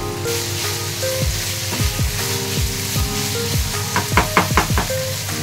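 Chicken sandwich filling stir-fried dry in a pan, a steady sizzle with repeated scraping strokes of a spatula against the pan, growing quicker and busier toward the end, close and fairly loud.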